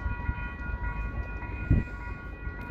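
A Western Maryland Scenic Railroad train arrives with a low, rumbling mechanical roar and a steady tonal hum, close and moderately loud, with a brief heavier thump partway through.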